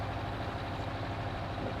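A tractor engine idles on a farm in Farming Simulator 19, giving a steady, even, low mechanical drone throughout with no talk.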